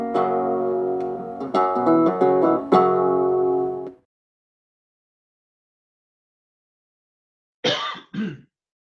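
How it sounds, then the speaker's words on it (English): Two quick, close coughs break a stretch of silence, following a few seconds of sustained tonal sound. "You got your cough in there."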